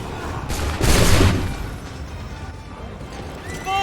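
A massed musket volley goes off in the video game Assassin's Creed III. One loud crackling burst of gunfire booms briefly and then fades into a rumbling battlefield ambience.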